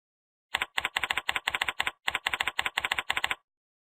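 Crisp keystrokes on a computer keyboard while entering a user ID and password, two quick runs of evenly paced taps separated by a brief pause, close and clean with no talk.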